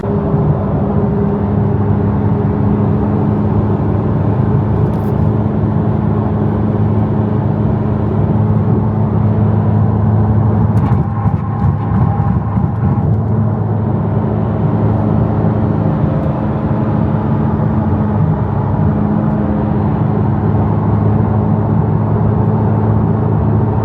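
A car drives along the road with a steady, loud rumble of engine and tire noise that holds constant throughout, with no voices.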